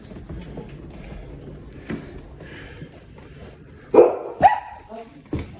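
A dog barks a few times close by, two sharp barks in quick succession standing out amid quiet rustling and movement.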